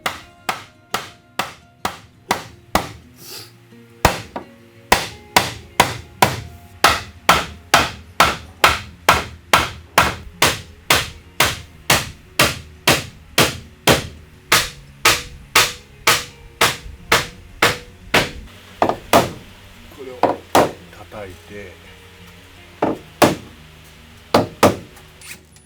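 Steady, repeated hammer blows on wooden stair treads being fitted into place, dozens of sharp close strikes in quick runs with brief pauses between bursts.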